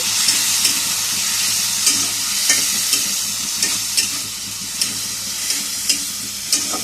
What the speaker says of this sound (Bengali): এর ভিতরে আমি চিংড়ি মাছগুলো দিয়ে একটু নেড়ে নিচ্ছি